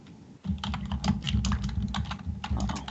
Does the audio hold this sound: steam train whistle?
no